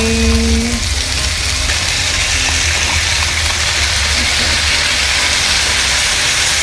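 Kimchi hits a hot pan of stir-fried pork with gochujang, giving a steady broadband sizzle and frying hiss that holds at an even, close level throughout, with no talking over it.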